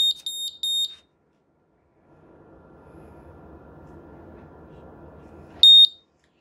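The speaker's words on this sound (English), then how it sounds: "when that hits water, the alarm goes off" A water leak detector puck shrieks in short piercing electronic beeps, then falls silent while a faint low rumble of water runs, before the alarm chirps again loudly.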